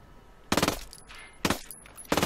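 Heavy machine-gun fire in the shooter game Ghost Recon Wildlands comes in three short, loud automatic bursts with brief pauses between them.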